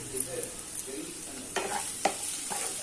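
Mushroom pepper fry is stirred in a pan, a soft, steady sizzle beneath occasional scraping clinks of the spoon against the metal, fairly quiet and close.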